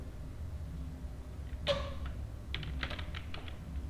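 Java code being typed on a computer keyboard: a quiet room, then a sharp keystroke followed by a short run of light, irregular key taps close by.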